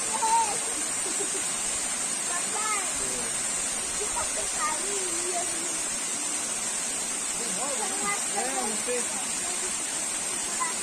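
Waterfall at Toque Toque Grande, a steady broadband rush of falling water filling the whole clip at an even level, with people talking briefly over it.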